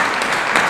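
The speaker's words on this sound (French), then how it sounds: "On acclame pour la parole de Dieu." A church congregation bursting into applause for the word of God during a sermon, a dense, even wash of many hands clapping at once, loud and sustained for a brief moment.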